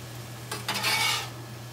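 Cooked chicken is stirred together with peppers and onions in a pan: a short, soft scrape-and-clatter of a utensil against the pan over a faint steady hum, brief and close, with no voices.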